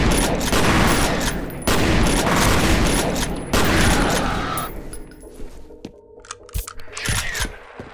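Bursts of rapid gunfire in the F.E.A.R. video game, loud and close, come in three long volleys. After them, scattered single shots and clinking mechanical sounds follow at a lower level.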